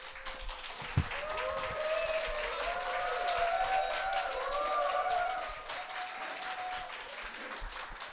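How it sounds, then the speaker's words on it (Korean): Applause from a church congregation welcoming a preacher: steady, moderately distant clapping from many hands that swells and holds for several seconds, then fades out. "나오실 때 큰 박수로 환영해 주시기 바랍니다."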